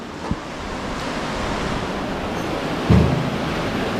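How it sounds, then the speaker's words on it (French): Loud, steady rushing water fills an abandoned industrial site, a constant broadband roar with a brief thump near the start and another knock around three seconds. "Je suis obligé de parler super fort parce que le bruit de l'eau, là..."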